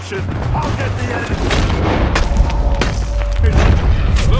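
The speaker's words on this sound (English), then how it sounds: "That cannon into position!" Cannon fire and gunfire boom repeatedly through a battle in the video game Red Dead Redemption 2, loud sharp blasts over a low rumble, with shouting voices in the mix.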